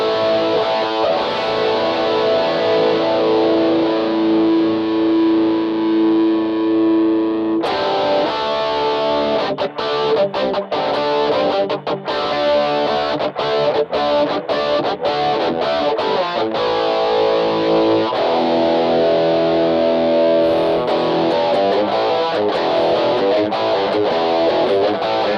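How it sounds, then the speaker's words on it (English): Electric guitar played through an MXR Rockman X100 pedal with its chorus effect engaged, a distorted, shimmering tone that sustains a held chord and then breaks into rhythmic strummed and picked passages, loud and close with no talking. "You can really hear the chorus on this one."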